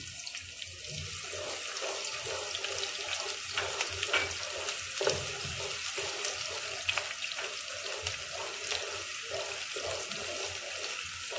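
Finely chopped small onion fries in a pan for tori curry, a steady, close sizzle with faint stirring scrapes throughout.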